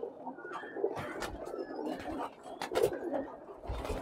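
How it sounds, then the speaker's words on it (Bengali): Pigeons from a cross between Giribaz and local deshi birds coo softly nearby at a pigeon farm, with throaty calls repeating and overlapping amid light rustling. "আমরা কিছু গিরিবাজ কবুতরের সাথে কিছু দেশি কবুতরের ক্রস করাই এই জাতটা আমরা তৈরি করেছি"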